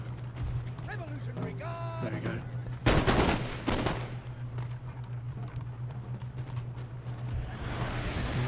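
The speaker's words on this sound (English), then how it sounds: "our Highland foot with 44 accuracy are going to start to fire onto the Cheval Leger" Musket volley from Highland infantry in Napoleon Total War, a loud crackling burst of massed shots with a rattling tail over a steady low game hum, under an earlier stretch of talk.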